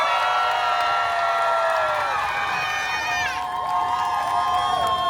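An audience on a Carnival Sunrise cruise ship cheering and whooping for a contestant during a sea day game show, with loud sustained shouts and rising whistles, a crowd roar that dips briefly midway.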